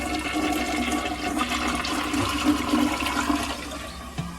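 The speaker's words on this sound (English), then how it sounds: "Here's the toilet. Don't know what kind it is, but I'll still flush it." A toilet flushing in a Hyatt Place hotel room bathroom in Lone Tree, Colorado: a loud, close rushing swirl of water that holds steady, then tapers off with a small clunk near the end.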